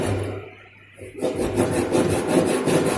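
A hand saw rasps back and forth through wood while a dovetail joint is cut, starting after a short pause with regular strokes, close and clear, with no talking.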